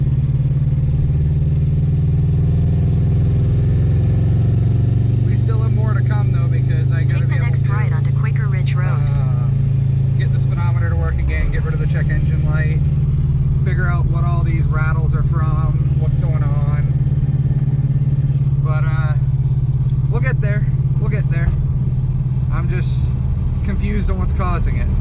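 A 1998 Subaru Impreza converted to a manual gearbox drives along a road, its engine droning loudly and steadily throughout while someone talks over it.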